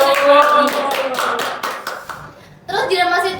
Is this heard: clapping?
yes